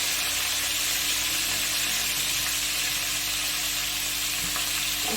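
Green chili and cumin seeds frying in hot oil in a wok give a steady, loud, close sizzle with faint stirring, continuous for about five seconds and with no talk.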